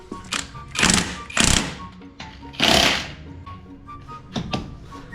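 Spare wheel being bolted back onto a vehicle, with bursts of loud impact-wrench rattling separated by thumps and knocks, close by, with a voice briefly heard between the bursts.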